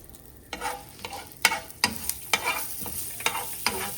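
Sesame seeds frying in about two spoons of oil alongside dried Byadgi chillies and curry leaves, with quick sizzling bursts and a spoon stirring and scraping the pan in an irregular rhythm.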